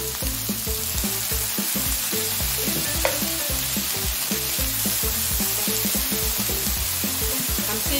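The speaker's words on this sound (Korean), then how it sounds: "수분이 없어질 때까지 졸여주듯이 볶아주세요." Bracken fern stir-fried with soy sauce in a pan gives a strong continuous sizzle with rhythmic scraping and tossing of the spatula, close and steady throughout.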